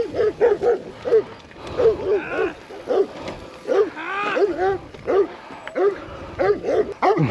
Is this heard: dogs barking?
yes